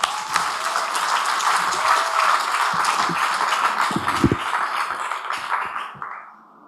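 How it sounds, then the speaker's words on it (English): An audience at PechaKucha Night Ubud 31 gives a warm round of applause to welcome the speaker Emmanuel Jal, with steady, lively clapping and a few individual claps standing out before it fades away in the last second. "So please help me to give a warm applause to Emmanuel Jal."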